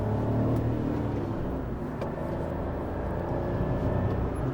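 Steady engine drone and road noise from a car picking up speed on a 70 km/h road, heard from inside the cabin with no talking.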